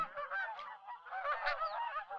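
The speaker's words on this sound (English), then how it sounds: "these are not the same geese they've watched rising into great V formations high above marshes" A flock of large, heavy geese of a prairie-nesting race honking continuously, several overlapping calls close by and clear, with no other sounds.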